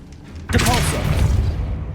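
A Depulso force spell goes off in Hogwarts Legacy as a sudden loud whooshing boom with a rumbling tail that fades over a second or so, with some voice mixed underneath.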